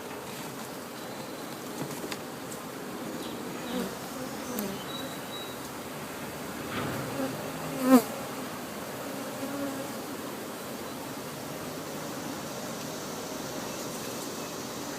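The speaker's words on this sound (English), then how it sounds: "if you hit them with some smoke, they will all sort of descend into the hive" Honeybees hum around a hive being installed with a nuc, a faint, continuous, diffuse buzz that carries on steadily throughout with no voices over it.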